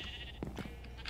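A Minecraft sheep gives a couple of short, wavering bleats close by against a faint steady background hum.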